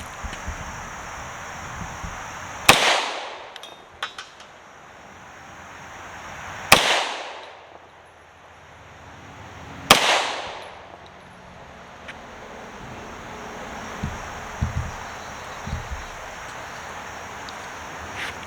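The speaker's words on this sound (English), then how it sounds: "You think I can shoot a little better? That one's got a little more kick to it." Three sharp, loud gunshots from a Tokarev pistol at an outdoor range, spaced a few seconds apart, each followed by a brief decaying echo, with wind noise in between.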